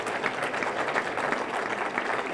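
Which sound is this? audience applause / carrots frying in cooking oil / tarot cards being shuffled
audience applause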